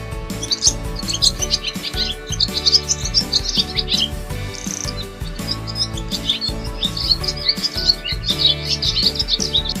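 A dove calls from a tree as bright, rapid repeated chirps and tweets that carry clearly over a steady musical backing throughout, with no voices.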